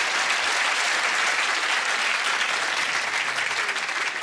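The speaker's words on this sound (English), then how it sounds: "Happy claps." Comedy-club audience applause, dense and steady, runs unbroken throughout with no speech over it.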